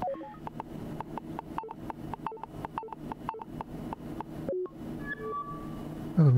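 Keypad beeps from PIN entry in the video game Lacuna, a steady run of about a dozen short evenly spaced electronic tones, each a button press, followed by a brief confirming chime and electronic flourish, with no talking.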